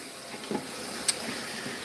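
Hot water from a shower head runs steadily into a Best Choice mini washer and spin dryer tub, a constant rushing pour with a small knock partway through.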